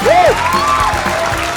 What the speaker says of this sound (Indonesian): Jadi kita beri tepuk tangan untuk tim Cabadak.